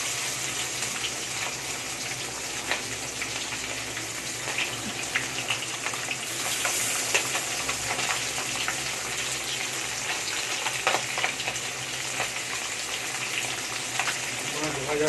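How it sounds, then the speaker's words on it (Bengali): Five fish fry in a pan of oil, making a continuous, even hiss like running water that holds steady for the whole stretch, with no clear voices over it. "মাছ ভাজা চলছে এখন।"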